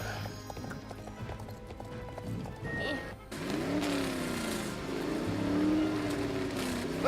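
A car drives past in the horse-riding game Star Stable Online, its engine tone rising and falling over steady clip-clop hoofbeats as a horse gives chase.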